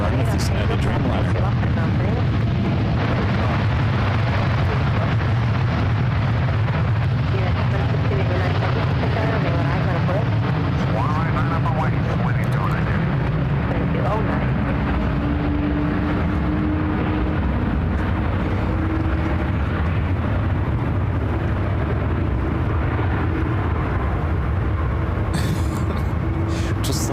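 A United Boeing Dreamliner arriving on runway 28 right at SFO, a broad low engine rumble and roar held steady throughout with a slowly rising whine, geese nearby and people talking over it.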